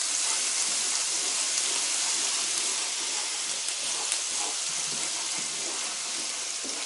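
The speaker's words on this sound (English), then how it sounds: "You can hear the sizzle." Garlic browning in a pan for channa dal gives a steady, dense hiss of sizzling oil that stays even throughout with no voices.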